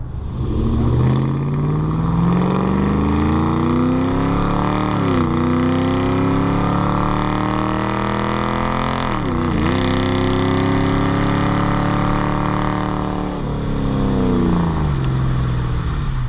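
A 2008 Ford Mustang GT with its V8 accelerating hard, the loud engine note climbing steadily through several gears with brief dips at each shift, heard up close from inside the car with no talking.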